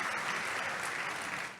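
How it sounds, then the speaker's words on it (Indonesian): A crowd at a church youth revival service claps steadily, a dense, fairly soft wash of applause that fades slightly near the end. "Tepuk tangan dulu yang paling meriah buat Tuhan."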